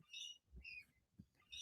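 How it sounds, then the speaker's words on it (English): Birds outside a bedroom window chirp and squawk in short bright bursts, a few calls spaced over a second or two, faint but clear against a quiet room. "Can you guys hear the birds outside?"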